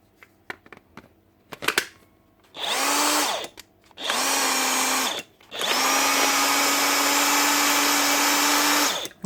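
A Dewalt DCF899 impact nut gun, faulty with its anvil not turning, whirs up loud and close in three bursts of rising motor whine, the last held for several seconds, after a few handling clicks.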